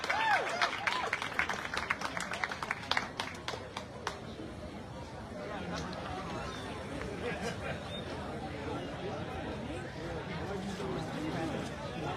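Audience applause for a scholarship award recipient at a neighborhood awards ceremony: a burst of clapping over the first few seconds that fades into murmuring crowd chatter.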